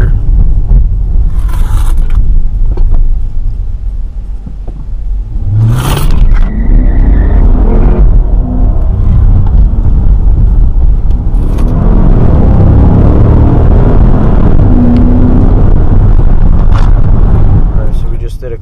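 A Dodge Charger accelerates hard from a standstill to 60 mph, its engine roaring loudly from inside the cabin as revs build through shifts, with occasional talk underneath.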